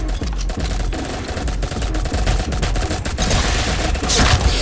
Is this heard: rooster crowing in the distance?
no